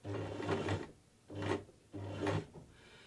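A sewing machine runs a simple straight stitch forward in three short bursts, a soft mechanical whirring and rasping with brief pauses between runs, close and quiet with no talk.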